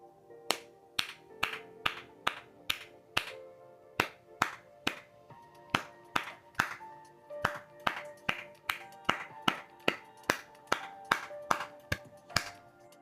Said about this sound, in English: I'm gonna clap the rhythm, and you can clap along with me